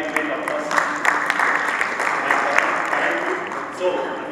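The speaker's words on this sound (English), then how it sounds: "Let me have a great applause." Audience applause in a presentation hall, a steady wash of clapping at moderate loudness lasting several seconds, with scattered sharper claps standing out.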